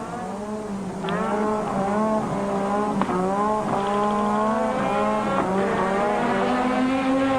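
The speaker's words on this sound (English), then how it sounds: "A lot of spinning wheel now, as you can see there, smoking from the tires." At the Belgian Grand Prix at Spa, Formula 1 cars scream past with loud, layered high-pitched engine whines. The pitch rises and falls as the wheels spin and the tyres smoke, while a continuous crowd and track roar sits beneath.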